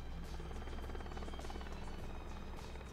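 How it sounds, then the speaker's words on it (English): A helicopter in the video game The Bourne Conspiracy thrums with a steady, rapid rotor beat, continuous and moderately loud with a low droning hum throughout. "I think that's a helicopter."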